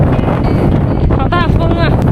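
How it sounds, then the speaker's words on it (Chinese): Strong wind buffets the microphone on a small volcano hilltop at Ulanhada, Ulanqab, a loud, constant roar filling the whole moment, with brief voices rising through it. "好大风啊！"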